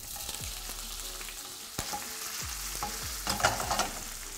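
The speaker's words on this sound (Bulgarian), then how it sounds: "И сега трябва да запържа месото до златиста коричка." Pork sizzling and frying in a hot pan until golden, a steady crackle with sharp spits and occasional clatter of stirring, close and alone without talk.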